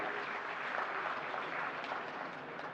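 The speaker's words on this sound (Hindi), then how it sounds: "अभी इन तालियों में दम कम है" Audience at a national handicraft ceremony claps in a continuous, moderately quiet patter of many hands, fairly distant and even throughout, with no speech over it.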